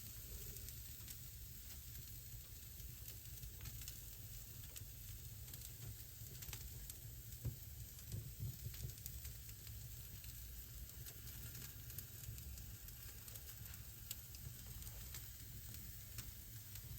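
Salmon sizzling over an open grill flame while being shifted back and forth, a steady low crackling hiss with faint scattered pops running unbroken throughout.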